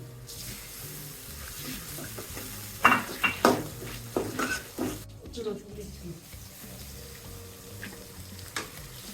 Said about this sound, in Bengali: তারপর টমেটো দিচ্ছি